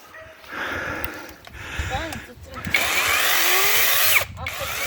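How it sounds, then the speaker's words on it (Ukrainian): A hand saw cutting through thick logs, with rough rasping strokes in uneven bursts and short pauses, close and fairly loud, while voices talk over it at moments. "чи можуть дівчата такою пилкою такі грубі геляки різати"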